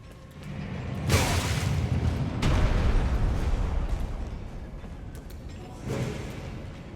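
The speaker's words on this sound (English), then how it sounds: "Cannon guy up ahead." An enemy cannon fires in Elden Ring's Shadow of the Erdtree expansion, with two heavy booming blasts a second or so apart followed by a lingering rumble and a third fainter boom near the end.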